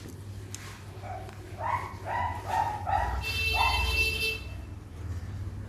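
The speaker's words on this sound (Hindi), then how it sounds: "ये मेरा पेट डॉग है जो भौंक रहा है।" A pet dog indoors gives a short series of several yips and barks in quick succession, moderately close, over a low steady hum.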